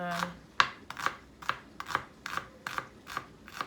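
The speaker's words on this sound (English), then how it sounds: "I am going to like mince up this shallot pretty finely" Knife mincing a shallot finely on a cutting board, about nine close, evenly spaced crisp chops in a steady rhythm.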